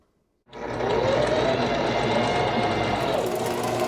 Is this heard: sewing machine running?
yes